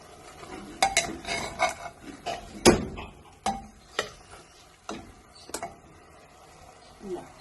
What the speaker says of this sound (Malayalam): ഇത് നന്നായി ഇളക്കി ചേർത്തെടുക്കാം. നന്നായി ഇളക്കി ചേർക്കണം.